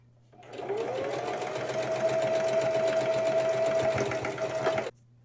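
A sewing machine stitches down a folded fabric strip in one continuous run of about four seconds, a close, steady rapid whirring hum that starts and stops abruptly.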